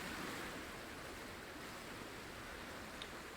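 A river flowing through the landscape of the video game Cairn gives a steady, even rush of water that holds the same texture throughout and plays alone with no talking.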